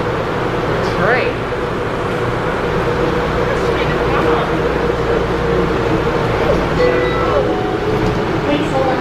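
A train rumbles steadily during a ride from the airport, a continuous low drone with faint squeals, while people talk over it throughout.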